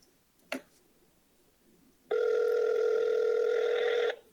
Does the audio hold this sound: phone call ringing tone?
yes